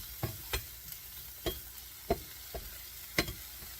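Pepperoni and vegetable omelette frying in a pan, a faint sizzle under a series of sharp utensil clacks and stirring knocks at irregular intervals, no talk.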